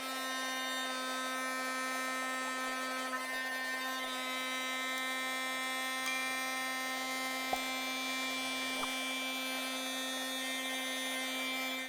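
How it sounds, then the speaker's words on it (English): A heat tool runs with a steady, even electric whir and hum, melting gold embossing powder on a handmade card. It sounds close and stays constant throughout, with a couple of faint clicks and no talking. "we're going to go ahead and heat set this"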